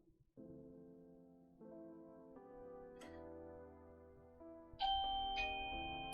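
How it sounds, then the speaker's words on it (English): A doorbell chimes at close range with a few clear ding-dong tones that ring out and overlap. Quiet room tones sit beneath them, and no one speaks. "Oh, that's the doorbell."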